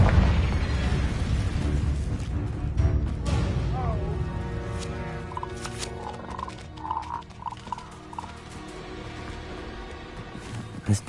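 A fire-blasting Confringo spell bursts in Hogwarts Legacy: a heavy low boom with crackling debris up front, then scattered pops and tonal game effects fading over several seconds.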